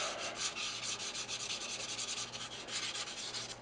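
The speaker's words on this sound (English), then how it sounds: "just hand sand your tips out here a little bit" Someone hand-sands the tips of a square wooden bowl spinning on a woodturning lathe, producing a steady, close, hissing rub with a rapid rhythmic pulse from the rotating piece, with no talking.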